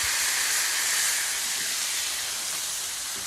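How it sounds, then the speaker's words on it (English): A smashburger patty pressed down onto onions on a hot griddle, a loud close hiss and sizzle that holds steady and fades slightly over a few seconds, with no talking. "Smash it right down on top of the onions."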